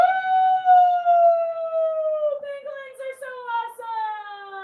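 A single voice lets out a long, close, sliding howl outdoors at 8 p.m. in Missoula, a human imitation of a wolf howl that dips and wavers, with faint chatter in the background.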